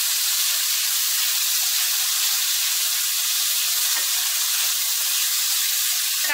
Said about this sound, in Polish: tutaj mam pierś z kurczaka, tylko posoloną i posypaną pieprzem. i smażę na patelni,